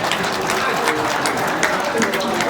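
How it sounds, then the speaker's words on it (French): Dense crowd applause fills an awards ceremony hall, a continuous loud wash of clapping with a voice talking over it. "Mais applaudissez pour moi."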